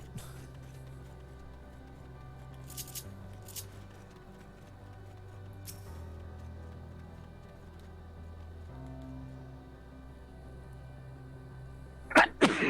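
A single sharp sneeze bursts out near the end, after a long stretch of quiet, low-humming ambience with no talking.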